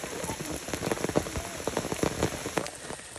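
Heavy, steady downpour during a festival walk in the hills of Rukum East, Nepal, a dense continuous hiss of rain striking surfaces with scattered close drops, loud and with no talk.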